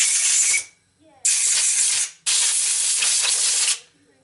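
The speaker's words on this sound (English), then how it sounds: "I'm just now wipe down the cans with the rag and just give them a blast with air" Three strong bursts of compressed air hiss across RB25DET engine camshafts to blow off oil and coolant, each lasting about a second with short gaps between, close and loud.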